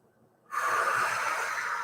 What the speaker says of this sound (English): One big inhale.